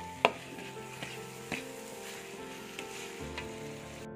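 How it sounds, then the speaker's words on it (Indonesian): Spice paste seasoned with nutmeg sautés in a pan with a steady close sizzle, broken by sharp clicks and knocks of a utensil stirring against the pan, and no talking. "Kita tumis bumbunya ini."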